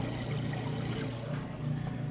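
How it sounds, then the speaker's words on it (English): A Whirlpool washing machine drains its rinse water in a steady, rushing gush with a low hum underneath, constant and fairly close for the whole stretch. "You can hear it draining that water out nice and fast."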